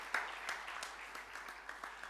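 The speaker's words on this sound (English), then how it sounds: "give a very hearty roar of applause to both" Soft, steady clapping from a small group at a conference policy session, continuous for a couple of seconds with scattered individual claps standing out, fairly faint and distant.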